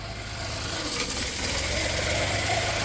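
A 2007 VW Polo with a failed alternator, just started off a jump pack, idles steadily at close range, a continuous low engine hum with broadband mechanical noise and no voices.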